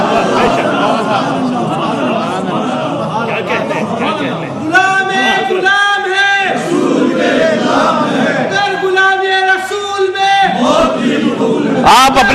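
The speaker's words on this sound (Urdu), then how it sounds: "2 نعرے بہت ہیں, ایک نبی کے ایک غوث کے." A large crowd at a religious gathering shouting slogans in unison, loud rhythmic bursts of many voices rising and falling in waves, with murmuring and a speaker's voice between the chants.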